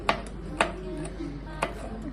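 Knife chopping food into slices on a cutting board while preparing butter garlic chicken: three or four sharp, separate taps at uneven intervals, close but fairly quiet.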